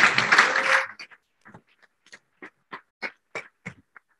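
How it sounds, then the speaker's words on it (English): A short burst of applause from a roundtable audience at an MPA networks event in Mallorca, loud at first and then quickly thinning into scattered claps before it fades. "I think he deserves a big clap"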